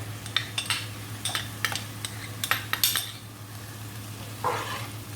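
Onions frying in a pan for a lamb shank dish, stirred with a utensil: a steady low sizzle under repeated sharp scraping clinks against the pan, with a brighter surge of sizzling near the end.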